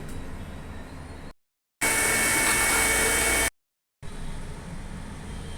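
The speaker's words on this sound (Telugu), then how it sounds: "మెత్తగా మిక్సీ బట్టి తీసుకొస్తారండి" A mixer grinder blending watermelon juice whirs in bursts, with a loud high-speed run in the middle separated by brief pauses, close and continuous.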